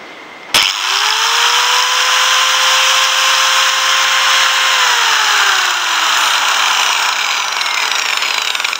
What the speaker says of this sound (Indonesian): jika kita menggunakan gerinda, kita harus mematikan gerinda pada interval waktu tertentu